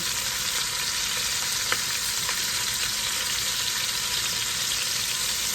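Curry chicken pieces and turkey tails fry in a hot pan with a steady, loud, close sizzle and a couple of faint clicks, with no talking.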